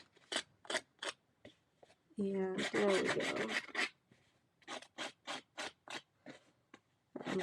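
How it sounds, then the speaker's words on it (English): Scissors blades scrape along paper edges to distress them for cardmaking, making a rhythmic series of short, close rasping strokes, with a brief spoken remark in the middle before the scraping resumes. "we have to be careful when we're using some distressing tool, even if it's our scissors"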